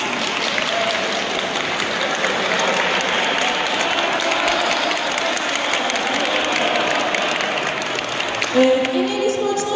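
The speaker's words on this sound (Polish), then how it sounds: "Wielkie brawa." Sustained applause from a school audience thanking guests at an event in Gliwice, dense and steady for nearly ten seconds, with a voice starting to speak near the end.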